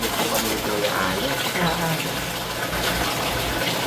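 Water running and filling in a home, a continuous broadband rush with a voice talking over it.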